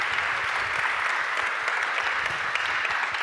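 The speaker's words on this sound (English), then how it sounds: "I think we give them a good round of applause" A conference audience gives a panel a full round of applause at a research summit, even and continuous clapping that fills the room without a break.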